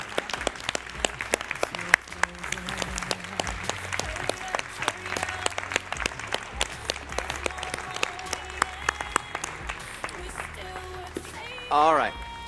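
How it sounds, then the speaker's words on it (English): An audience at a women's wellness event rises and applauds, giving sustained, even clapping that fills the room at moderate volume for over ten seconds, with a brief voice near the end. "I want you to rise to your feet, and I want you to give them applause"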